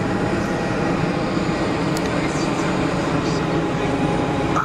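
An airplane departs Geneva Airport and retracts its landing gear, heard as a steady, loud broadband engine roar lasting throughout, with no clear separate gear clunk standing out.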